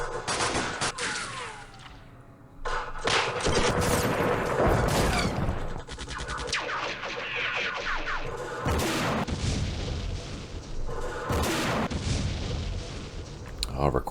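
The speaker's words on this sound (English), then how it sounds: "Oh, recoilless rifle." Recoilless rifle blasts and rolling gunfire in the Middle East war video game, loud booms and bursts of shots layered over a continuous battlefield din.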